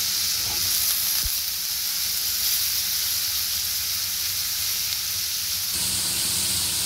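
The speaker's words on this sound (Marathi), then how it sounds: "पाहू शकता कोबी छान आपण त्याच्यामध्ये परतून घेतली आहे।" Shredded cabbage sautéing in hot oil with turmeric, a steady broad sizzle that holds evenly throughout, with one brief low thump partway through and no voices.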